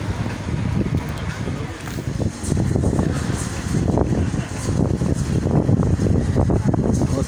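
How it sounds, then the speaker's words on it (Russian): Strong wind gusting at a beach in Lazarevskoye, Sochi, a broad continuous roar that buffets the microphone steadily throughout, with talking mixed in. "Вот так, ребята, ветер дует сильный."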